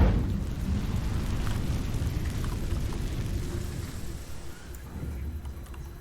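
Incendio fire spell cast in Hogwarts Legacy: a dense, low roaring whoosh with crackling texture that fills about six seconds at steady loudness, thinning slightly near the end.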